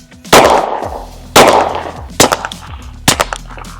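Four loud, sharp unsuppressed gunshots ring out close by at uneven intervals, each followed by a short echoing decay. The first two are the heaviest and the last two are quicker cracks.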